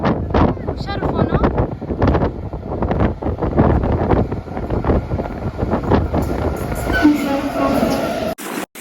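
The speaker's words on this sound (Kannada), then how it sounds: "ಟ್ರೈನ್ ಬರ್ತಾ ಇದೆ." A train rushing past close by gives a loud rumbling roar with rhythmic clatter and heavy wind buffeting on the microphone. People talk over the noise, and it ends with an abrupt handling clunk.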